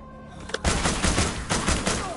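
Rapid gunfire from a gun in The Walking Dead Destinies video game, a loud sustained burst of repeated shots in quick rhythm after a brief lead-in click.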